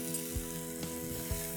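Onions and spices, among them turmeric, chili powder and cumin seed powder, fry in a pan with a steady broadband sizzle. A few soft stirring thumps sound over it, close and alone.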